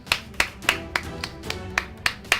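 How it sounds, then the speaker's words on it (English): Hand claps for a Sky Factory 2 Minecraft playthrough ring out alone, eight sharp, evenly spaced claps about a third of a second apart against a quiet background. "Everyone give me a clap, come on."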